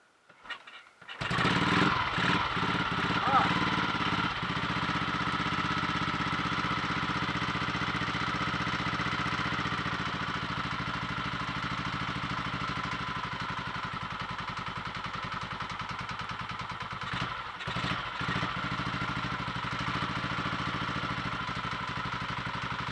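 A Royal Enfield 350 Redditch Bullet motorcycle starting after a full engine rebuild: a few cranking turns, then the single-cylinder engine catches and runs at a steady, close, continuous idle for the rest of the clip.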